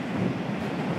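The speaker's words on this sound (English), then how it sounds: "Look at those waves. They gotta be like 10 feet high." Ocean surf rolls onto a beach as a steady, close wash of wave noise with wind rumbling across the microphone, and nobody speaks.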